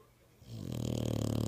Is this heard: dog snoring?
yes